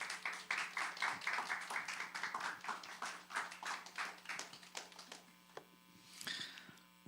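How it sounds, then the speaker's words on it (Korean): Church congregation applauding to welcome the pastor, a burst of many hands clapping fairly quickly that tapers off near the end, heard over a steady low electrical hum. "우리 목사님에게도 힘내라고 박수로 좀 맞이하겠습니다."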